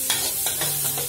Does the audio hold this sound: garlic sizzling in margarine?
yes